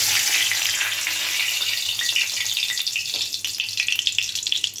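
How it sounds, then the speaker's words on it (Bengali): A bay leaf sizzles in hot oil, a steady, bright hissing crackle that breaks into small pops toward the end. "তেলটা আমার গরম হয়ে গেছে এখন আমি দিয়ে দেবো একটা তেজপাতা"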